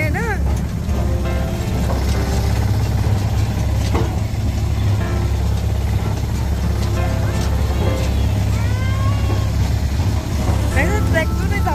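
A tractor engine runs loud and steady at low pitch throughout a farm ride, a constant rumble close by while people talk and laugh over it.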